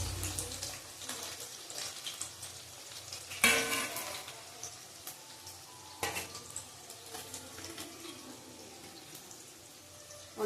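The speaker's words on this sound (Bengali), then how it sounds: "আলুটা ভেজে নিলাম, ভালো করে ভেজে নেবো" Potatoes fry in a pan with a soft, steady sizzle and a couple of sharper clatters from stirring, quiet and close, with no voices.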